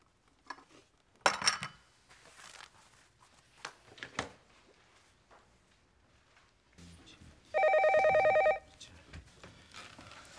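A telephone rings once in a Korean home with a bright sustained electronic trill, preceded by scattered clinks and household clatter, all fairly close with no speech.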